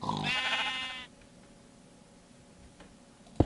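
Minecraft sheep bleats once in a short, wavering, nasal cry near the start, followed by a quiet game background with a faint click at the end.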